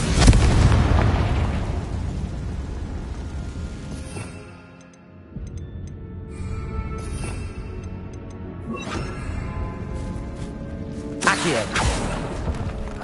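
Confringo spell blasts in Hogwarts Legacy inside a spider-cleared tomb: a loud explosive burst opens, followed by rumbling aftermath and another sharp blast later, with game sounds throughout.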